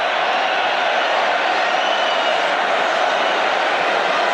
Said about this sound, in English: And you listen to this crowd now.